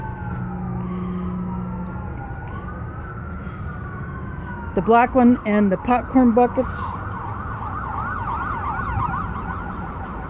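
Emergency vehicle sirens wail down a city street, a distant rising and falling tone that later switches to a faster yelp, while a person talks nearby in the middle.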